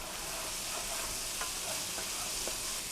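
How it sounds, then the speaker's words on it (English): Chili paste sautéing in heated oil gives a steady, moderately loud sizzle with a few faint clicks of stirring, no voices present. "now that my oil is heated, I'm going to add in my chili paste. I'm going to saute it until it's fully cooked"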